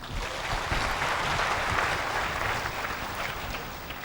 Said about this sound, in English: Can I have a big round of applause for him?